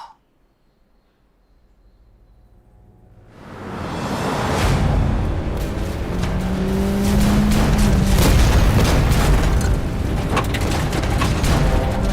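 A heavy blast from a bombing strike by Japanese forces on a university swells from near silence into a loud, sustained roar and rumble with debris-like crackle, lasting several seconds.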